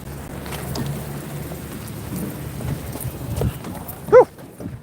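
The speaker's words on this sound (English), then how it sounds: "Whoa, it really is raining." Rain falls steadily on a lake, a continuous soft hiss and patter heard nearby, with one brief sharper sound near the end.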